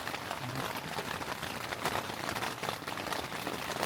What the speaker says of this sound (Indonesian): Nih cuacanya lagi hujan ya.